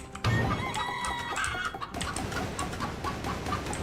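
Chickens cluck and squawk in the video game Guacamelee, a busy close flurry of clucks and a crow-like call over a lively game soundtrack.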